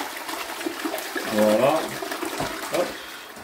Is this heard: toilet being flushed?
yes